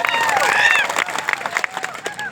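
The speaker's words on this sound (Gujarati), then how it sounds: "અહીંયા જેટલા પણ પોલીસ અધિકારીઓ છે એમના માટે જોરદાર તાળીઓ પાડી લો." A political rally crowd applauding and cheering for police officers at a speech, a dense wash of clapping with whistles and shouts near and loud across the whole stretch, fading slightly toward the end.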